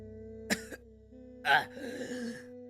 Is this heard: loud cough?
yes